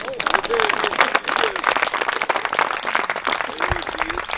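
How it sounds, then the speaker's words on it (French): An audience at an evening storytelling festival claps energetically, dense applause mixed with cheering voices and a few whistles, lively and close, continuing throughout. "Donc, je vous demande de les applaudir. Bravo!"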